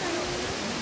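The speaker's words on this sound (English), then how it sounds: "This waterfall. This is so pretty." Waterfall at Phet Phanomwat in Surat Thani, a steady broadband rush of falling water, close and even, with no voices over it.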